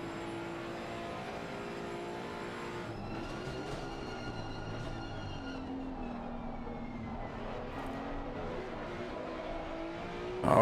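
A Maserati GT2 race car in a racing video game drives around the Monza circuit. The engine tone climbs and falls in a steady drone, and a brief bump sounds near the end as the car runs over the curbs.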